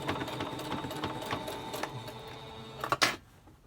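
A sewing machine runs steadily, top stitching the edges of a pleated fabric face mask with interfacing, a close continuous whirring drone that ends in a few sharp louder clacks near the finish.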